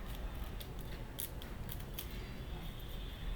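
Scissors snip through paper while folding a four-petal festive flower decoration, with a few sharp cuts spaced over a steady low background hum and no talking.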